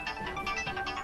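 A telephone rings in short repeated electronic trills, quiet and close, with no talk over it.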